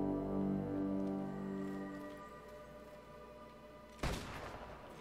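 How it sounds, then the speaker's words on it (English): Enemy gunfire in Fable 2 comes in as one sharp shot after a stretch of droning game music, loud and close against the quieter background. "They're shooting at me."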